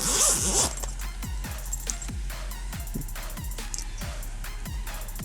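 The zipper on the pouch from a GoPro Hero 8 travel kit, pulled in a series of quick close rasping strokes, one after another, with a brief whirring start.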